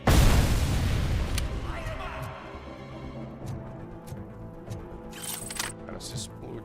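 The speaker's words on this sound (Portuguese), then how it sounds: "O cara se explodiu sozinho." A heavy explosion as an enemy blows himself up in RoboCop: Rogue City, a loud close boom at the start that decays into rumbling debris, followed by scattered smaller clanks and game noises.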